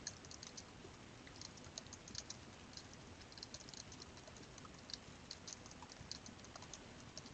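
Typing on a computer keyboard while entering a note in SharePoint, a faint rapid patter of key clicks in irregular bursts, quiet and close with no speech.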